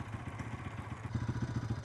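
A motorcycle engine runs nearby with a quick, even chugging pulse that grows a little louder toward the end, with no talking.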